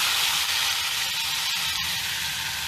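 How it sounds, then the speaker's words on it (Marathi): Mint and coriander green masala sautéing in a pan with a pinch of asafoetida, a steady close sizzle holding evenly throughout, with no talking. "मसाला आता परतून होतोय"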